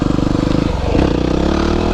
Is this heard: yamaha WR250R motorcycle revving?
yes